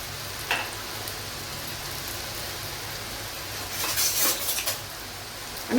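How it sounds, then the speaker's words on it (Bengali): Nimki frying in hot oil, a steady close hiss and crackle that swells into a brief louder sizzle with a faint clink, no talking. "একটু ধীরে সুস্থে ভাজতে হবে"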